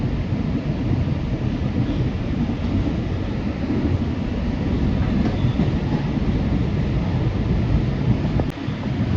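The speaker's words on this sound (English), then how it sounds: "All aboard the Staten Island Railway." R211S subway-style train running on the Staten Island Railway, a steady loud rumbling roar of wheels and car motion with wind buffeting throughout, continuous and close with no voices.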